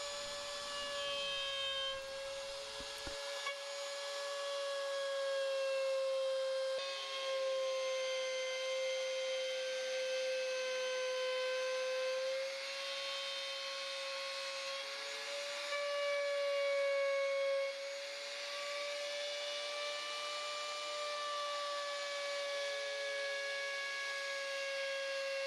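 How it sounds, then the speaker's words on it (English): Trim router on a large base plate, guided by a PVC pipe bushing, cutting a flat into a wooden case: a steady high-pitched motor whine with a sustained tone, continuous and loud, with a brief quieter start. "I have a trim router attached to a large base plate and a piece of PVC pipe to act as a guide bushing"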